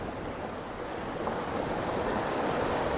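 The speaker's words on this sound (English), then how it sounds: "look at here, we got us a waterfall" Continuous broadband rushing water, a steady roar of a waterfall in a riverside park, with wind-like hiss, no speech.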